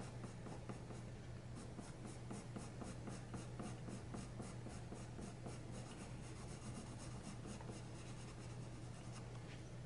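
Castle Art soft touch colored pencil shading across paper, a steady close scratchy rasp with quick repeated strokes running continuously and alone.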